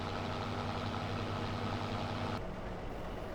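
A Ford tractor idles in the Farming Simulator 25 video game with a steady, continuous engine drone at moderate level. The low hum drops slightly partway through, with no voices over it.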